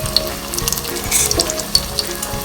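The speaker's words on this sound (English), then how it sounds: "Guys, I have my bake and I have my oil, and I'm just going to be laying it down in there." Bake dough fries in hot oil in a frying pan, giving a loud, close, crackling sizzle with sharp pops spread through the clip.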